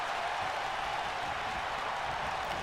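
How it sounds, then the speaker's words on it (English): Continuous crowd cheering and roar from an arena audience during a women's championship wrestling match in WWE 2K22, steady and loud throughout with no pauses. "Crowd cheering."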